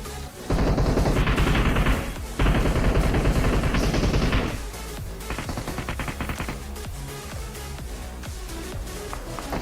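Rapid automatic gunfire in a mobile battle royale game rattles in dense, loud bursts, then gives way to lighter, scattered shots and game noise.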